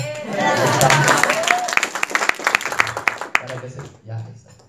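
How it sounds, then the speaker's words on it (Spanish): Audience applause at a sales presentation on a network-marketing business, a burst of clapping at moderate distance that fades out, with a voice talking over it. "unas palmas, por favor"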